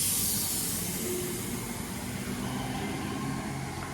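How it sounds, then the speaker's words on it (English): A Northern train bound for Manchester Piccadilly via Stockport passes close by with a continuous loud rushing roar and hiss of wheels on rail, steady throughout. "There goes the 12:05 Northern service to Manchester Piccadilly via Stockport."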